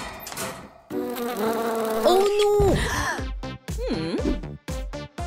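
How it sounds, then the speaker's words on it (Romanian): A housefly buzzes loudly in short, close bursts with a rough, droning whine, mixed with cartoonish effects and brief vocal sounds. "m-a atacat o muscă!"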